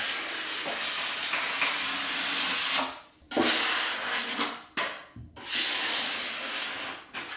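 A drywall knife squeezes excess joint compound out of a wall corner during a farmhouse remodel, a steady close scraping and rubbing that breaks off in two short pauses before resuming.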